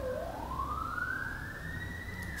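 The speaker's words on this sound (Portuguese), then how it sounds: "Sirene, vou esperar ela passar." A siren wails in a single long rising sweep as it passes in the distance, faint over a steady background hum, with no talk.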